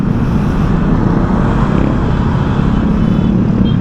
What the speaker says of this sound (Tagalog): Uwian na kasi, kaya grabe yung traffic.